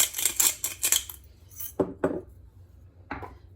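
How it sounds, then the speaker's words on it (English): Pepper being ground with a pestle and mortar in a home kitchen while making lentil bolognese. Quick, close clinking taps come first, then a few separate sharp knocks follow with short pauses between them. "using the pestle and mortar"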